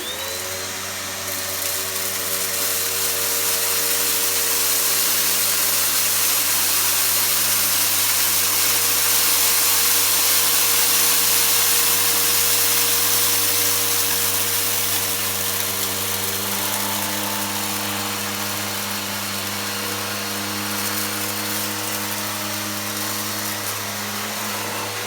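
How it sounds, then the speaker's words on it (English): A Beko bagless vacuum cleaner runs continuously on carpet, giving a loud, steady motor whine with a strong low hum, and the pitch shifts slightly as it is pushed back and forth. "One pass back and forth, the bog standard vacuum cleaner"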